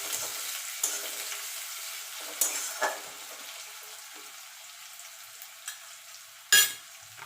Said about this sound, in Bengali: পেঁয়াজটা একটু গোল্ডেন কালার করে ভেজে নেব।